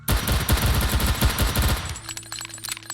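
Rapid pistol shots in the VR shooter Sairento, a dense close volley of sharp cracks for about two seconds, then quieter sparse clicks and a faint tone.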